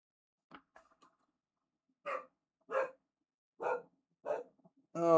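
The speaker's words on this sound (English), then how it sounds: "this dog never stops barking" A dog barks in short separate yaps, a few faint ones first and then four louder, evenly spaced barks close by, with no talk over them.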